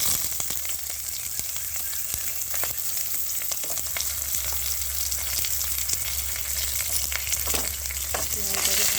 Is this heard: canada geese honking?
no